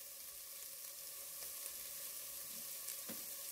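Onions sautéing in a soup pot for dairy-free cheddar broccoli soup give off a soft, steady sizzle and hiss that stays faint and even throughout, with no voices.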